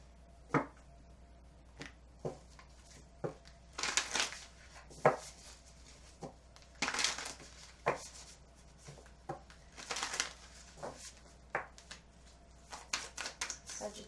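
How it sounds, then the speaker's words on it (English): Tarot cards shuffled in the hands, heard as short riffling bursts and sharp taps spread across the clip with quiet gaps between them, close and fairly soft against a low steady hum. "That was just some bad shuffling."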